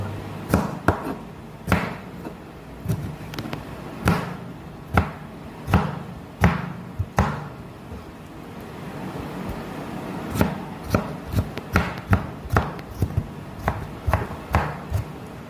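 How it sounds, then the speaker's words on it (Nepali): Hill cucumber being finely chopped with a knife on a board, a series of sharp, close knocks in uneven bursts with short pauses, heard alone without talk. "म छुट्याएर यसलाई मसिनो पाराले काट्छु।"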